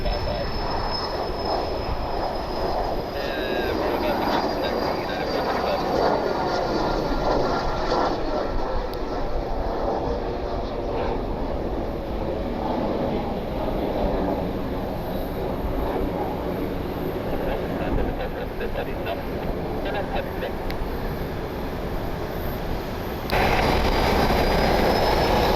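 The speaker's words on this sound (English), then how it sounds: "Got a private jet departing here on 28 left." A private jet departs on runway 28 left at Columbus Glenn Airport, heard as a loud, steady broadband jet roar held for about 23 seconds, with a whining tone riding on top, then a brief shift in the noise near the end.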